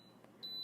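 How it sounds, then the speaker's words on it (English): A digital pressure cooker gives a single clear high electronic beep as its lid locks, then the tone holds steadily in a quiet kitchen. "It'll beep in a second when it's locking itself."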